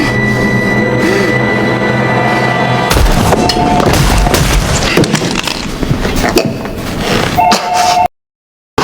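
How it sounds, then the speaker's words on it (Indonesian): Gunfire in a film scene: a run of loud, sharp shots and cracks bursts out after a steadier background hum, with several closely spaced blasts before sudden silence near the end. "Ray menembaknya sebelum Andre menembak Ray hingga tewas."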